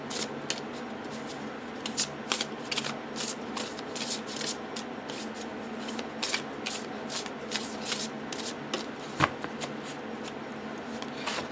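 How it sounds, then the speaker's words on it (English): Tarot cards being shuffled by hand, a steady run of crisp riffling and sliding bursts with a few sharper snaps, close and fairly quiet, with no talking. "I need to give these a couple real good shuffles."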